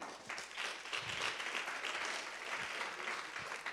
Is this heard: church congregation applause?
yes